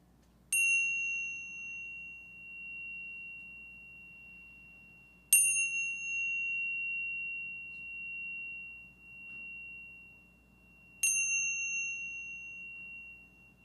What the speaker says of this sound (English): Now Mary will ring the Tibetan bells